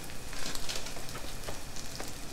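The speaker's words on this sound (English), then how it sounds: "A gentle sizzle." Breaded chicken fries in hot oil with a gentle, steady sizzle, a soft crackling hiss that carries on evenly with no talking over it.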